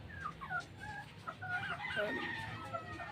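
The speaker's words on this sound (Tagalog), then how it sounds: "Yan na nating mga alagang sisiw." Young chicks and chickens of a gamefowl bloodline cluck and peep close by in a coop, with a busy overlapping series of short calls and a longer crow-like call midway, faint background noise under it.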